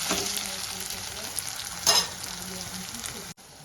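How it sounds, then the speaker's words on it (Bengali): Ginger, garlic and green chilli paste stir-fries in hot oil for an egg curry, a steady close sizzle with scraping stirs and a louder clatter of the spoon near the middle, cutting off abruptly at the end. "আদা রসুন কাঁচা লঙ্কার পেস্ট দিয়ে দেবো দিয়ে ভালো করে কষিয়ে দেবো"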